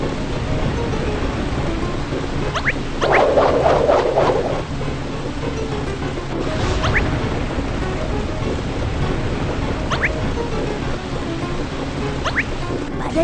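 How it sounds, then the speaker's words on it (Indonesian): A storm in a children's cartoon brings steady rain and rumbling thunder, with a louder burst of splashing rain and faint swooshing accents, and no voices. "Hati-hati, badai semakin kuat."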